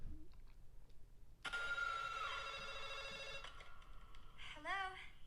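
An old landline telephone rings in the opening phone call scene of the horror film Scream, a sustained bell ring over background sound, with brief voices around it.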